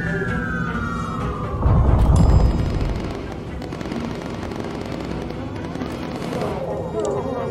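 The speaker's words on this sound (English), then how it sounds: "Bombs away" Bombs dropping and exploding in the aircraft game Bomber Crew: a descending whistle gives way to a loud, rumbling burst of blasts that fades into a sustained low roar with crackling debris.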